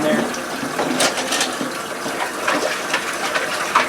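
Tap water runs steadily while a cup is rinsed, a close splashing gush with a few clinks, and someone talks over it.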